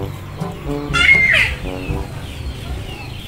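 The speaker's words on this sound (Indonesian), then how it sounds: "udah itu ayam meureun" A chicken clucks and squawks briefly near the middle while people talk in the background.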